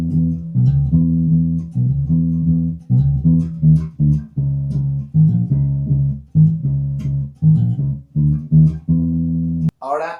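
A Fender Jazz Bass played in passive mode with both pickups at equal volume plays a clear, rhythmic line of plucked low notes, loud and close, with short gaps between phrases.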